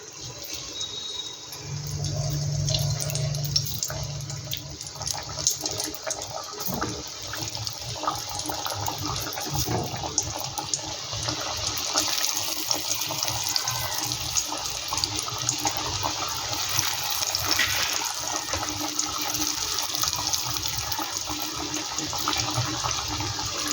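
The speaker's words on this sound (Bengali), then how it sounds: "বাকিগুলো আমি একইভাবে ভেজে নেব।" Khaja pastries deep-fry in hot oil, producing a dense, steady sizzling hiss that swells and settles throughout, close and continuous.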